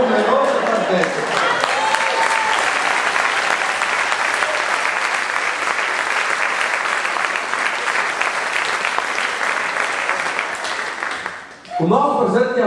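Theatre audience applauding after a show, a long, dense wave of clapping that holds steady and then fades out near the end, with a voice speaking briefly at the start and again once it dies away.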